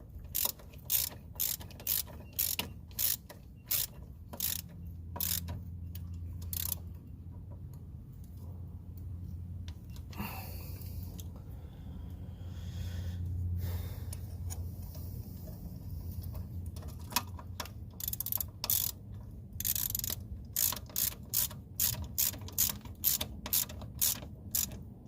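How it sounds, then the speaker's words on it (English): A ratchet wrench with a 13mm socket clicks rapidly while tightening an upper balljoint on a 1999 GMC Yukon 4WD, crisp close bursts of pawl ticks around a quieter middle stretch of faint metallic handling. "grab your 13mm socket and wrench, and we throw it in. Tighten everything down."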